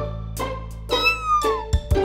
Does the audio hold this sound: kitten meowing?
yes